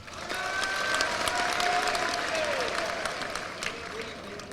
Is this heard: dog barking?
no